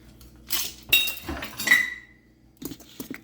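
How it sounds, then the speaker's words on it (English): Cornbread batter whisked in a bowl, with a few quick clinks and scrapes of the whisk against the bowl, close by, then a short pause and a couple more taps, with no talking. "I'm going to start whisking this together."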